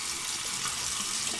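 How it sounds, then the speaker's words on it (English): Cold tap water running over an alum block at a bathroom sink, a steady, close hiss of flowing water with no voices. "remove the cap, soak it under the cold water."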